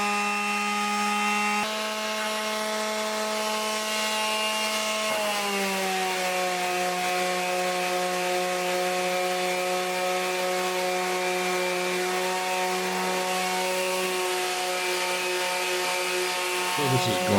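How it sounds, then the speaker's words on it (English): A power sander runs continuously on a wooden charcuterie board during finish sanding in a workshop, a steady whining drone whose pitch drops a few times. "Got to do a little bit of finishing sanding on a charcuterie board"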